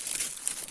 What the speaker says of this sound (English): this is the packet of extra nibs that come with this packet